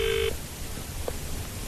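A telephone call rings out before going to voicemail: one short electronic ring tone at the start, then a steady hiss of line noise with a faint blip.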